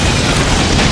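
A video game explosion in a collapsing level with loose live wires: a loud, dense roaring blast that fills the whole short moment, with no voices.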